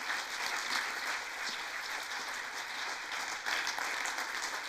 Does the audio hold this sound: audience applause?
yes